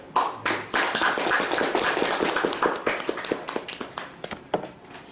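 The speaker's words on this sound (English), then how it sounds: "let's end this session with a large applause." Audience applause closing a PhD thesis defense session at Shimane University: a burst of dense clapping from a small room that thins into scattered, separate claps as it fades out.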